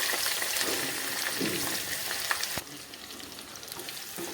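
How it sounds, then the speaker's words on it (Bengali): Chopped onions fry in oil with dry chilli and cumin in a pan, a bright close sizzle with occasional scraping stirs that drops quieter partway through, with no talk. "পেঁয়াজগুলোকে একটু নাড়াচাড়া করব"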